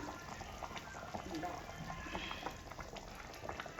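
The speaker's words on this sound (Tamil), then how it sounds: "இது ஒரே ஒரு கொதி மீன் குழம்பு கொதிச்சிருச்சு" Fish curry (meen kuzhambu) simmering in a pot, a soft continuous bubbling close by, with a voice talking over it.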